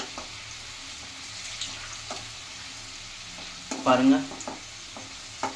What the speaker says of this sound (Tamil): பூண்டு வந்து இது கூட ரொம்ப தீய விட்டுறாதீங்க.